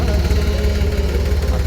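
A small Force tractor engine idles steadily on a farm before ploughing, a loud low rumbling chug with a constant rhythmic throb and faint knocking, close to the listener.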